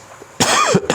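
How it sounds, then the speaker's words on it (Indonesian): A single sharp cough from a man at a home religious study gathering, one short burst followed by a brief second rasp, close and loud with no talking. "Batuk dulu terus."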